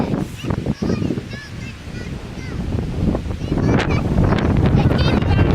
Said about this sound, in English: The wind is coming from like this direction.